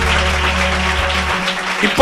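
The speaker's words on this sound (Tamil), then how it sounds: "சத்தமான ஒரு கைதட்டு." A congregation in a church in Tirupur claps loudly and steadily for about two seconds, a dense sustained wash of applause with a low hum beneath and a brief swell at the very end.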